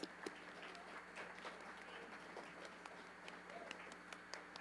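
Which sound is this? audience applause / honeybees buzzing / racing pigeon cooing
audience applause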